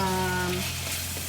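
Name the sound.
chili frying in a pan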